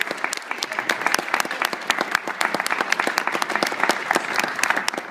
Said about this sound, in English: So how about another round of applause for just an amazing